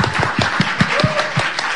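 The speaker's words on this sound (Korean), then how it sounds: "그래서 제가 정말 감사를 드리고 박수를 보내는 바입니다." Brief applause at a union general meeting in Seoul, with a handful of distinct nearby claps in an uneven rhythm over a soft background.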